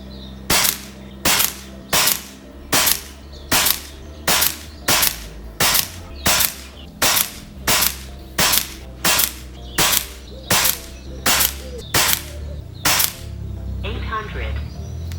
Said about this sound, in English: Let me quickly shoot one of the older pellets that I absolutely know loves this barrel.